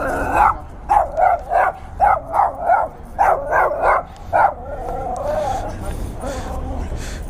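A dog barks in a quick series of short, loud, close barks, roughly a dozen in bursts, then shifts into a lower drawn-out whine or growl as background noise continues.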